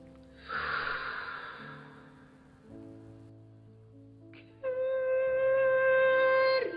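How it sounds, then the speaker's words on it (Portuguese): A person clearing the throat and breathing, a short rough rasp followed by audible breaths, close and fairly quiet, then a sustained vocal tone afterward. "Quando alguém faz um pigarro, respiração."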